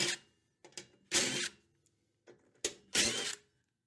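A ratchet with a 3/8 socket working the pulley shield bolts on a Troy Bilt Pony 42-inch riding lawnmower, giving four short bursts of rapid clicking close by, separated by brief pauses.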